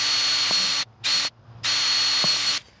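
Close power drill boring holes in a plastic golf disc, two long whining bursts split by a short one, with brief pauses between.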